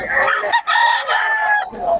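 A rooster crows loudly and close by, a long drawn-out call that breaks briefly and then carries on, with a second shorter crow at the end.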